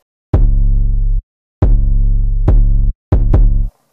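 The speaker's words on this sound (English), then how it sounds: "So next I added an 808 that matches the pattern of the kick," Trap 808 bass playing together with the kick pattern: four sustained, booming bass notes, each opening with a kick punch and ringing for up to a second before cutting off.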